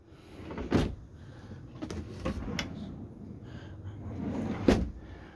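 Several drawers in a Knaus Sun i900LEG motorhome slide open and shut nearby, each with a quick rolling swish and a soft thud, spaced out over a few seconds.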